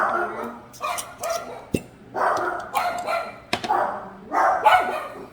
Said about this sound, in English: don't know what you're barking at.